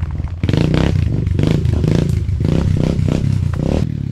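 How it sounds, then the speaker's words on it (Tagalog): A Rusi motorcycle on bald tires climbs a dirt enduro trail in Binalonan, Pangasinan, its engine loud and close, revving in repeated surges with clattering and scraping from the rough ground. "Kalbong goma, Rusi na motor, umaahon."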